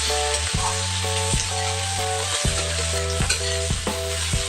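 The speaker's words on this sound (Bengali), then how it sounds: "ভালো করে পেঁয়াজ কাঁচা লঙ্কাটা ভেজে নিতে হবে" Chopped onion and green chili fry in oil for a Bengali bata fish curry with potatoes, giving a steady broadband sizzle with occasional stirring, set beneath prominent tonal background music with regular chord changes.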